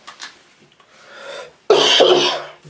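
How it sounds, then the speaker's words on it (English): A couple of quiet breaths or small throat sounds, then one loud, close harsh cough burst near the end. "I'm coughing on camera"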